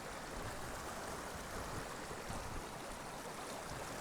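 Steady, close rush of a waterfall in Northumberland, a continuous broadband roar of falling water with no other sounds.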